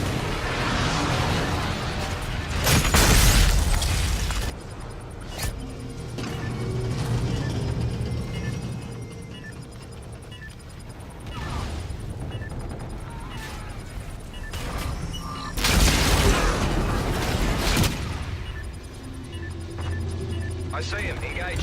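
Call of Duty gun run air strike sets off heavy booming explosions in two loud bursts, one early and one later, over a rumbling battle backdrop with a voice talking intermittently.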